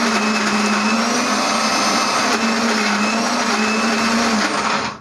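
A mixer grinder runs steadily at full speed, blending gongura pickle with a loud, continuous motor whine and whirring blades that hold unchanged for several seconds before cutting off.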